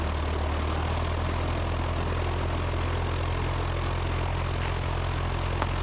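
A small airplane's propeller engine roars at high power during a night takeoff roll, a loud, steady drone with a low throbbing hum that holds constant throughout.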